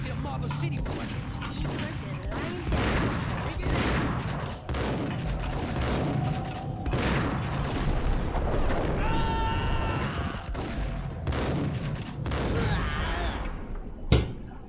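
Gunfire in the Max Payne video game, dense bursts of shots blending into a continuous loud barrage with a final heavy bang, while a voice talks over the action.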